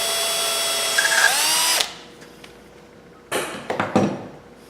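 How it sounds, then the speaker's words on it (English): A power drill whines at steady speed while drilling holes for a brass fitting, then winds down and stops, followed by a few clattering knocks and handling sounds, close and loud. "Go ahead and drill this"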